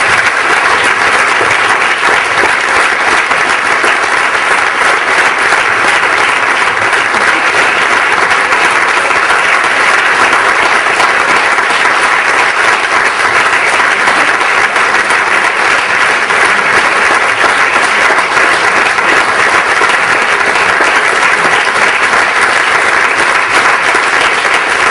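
Big ovation from a conference audience at a 30th anniversary event for Grup d'Acció Valencianista, dense continuous clapping that stays very loud and even for the whole stretch.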